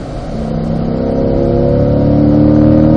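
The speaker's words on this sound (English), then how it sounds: "Accelerating up and out of turn 2, going to fifth gear" A car on a racetrack at a performance driving school at Spring Mountain accelerates hard out of a turn, its engine roaring loud and close with rising pitch through the gears into fifth.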